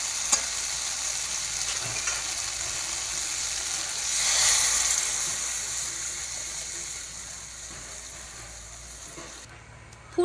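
Fish curry with drumstick stalks boiling in a pot after water is poured over sautéed spices, giving a steady close sizzle and bubbling hiss that swells briefly mid-way, then eases, with no talk.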